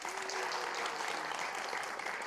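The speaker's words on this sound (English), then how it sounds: "use a round of applause for Manish" Applause for a colleague at a grand inauguration event, a brief, fairly faint wash of clapping from a crowd lasting a couple of seconds, steady and without distinct voices.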